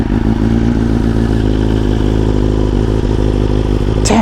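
A BMW S1000RR sportbike with an Akrapovic exhaust idles loud and close after a cold start, a steady, throbbing engine drone with a rhythmic mechanical clatter running throughout.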